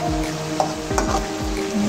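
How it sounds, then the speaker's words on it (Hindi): Onions browning in a hot pan for bhindi masala, a loud, constant sizzle broken by a few quick scraping strokes of stirring, close up and without voices. "ये अब मैंने प्याज ब्राउन कर रही हूँ"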